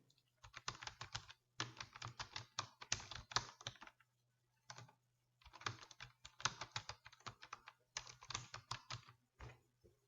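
Quick keystrokes on a computer keyboard while typing text into a Microsoft Word page header, arriving in close, rapid bursts of clicks separated by brief pauses.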